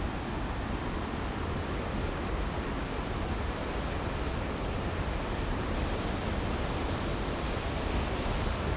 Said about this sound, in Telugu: చూడండి తల మీద ఎట్లా పడుతుందో వాటర్ ఫాల్.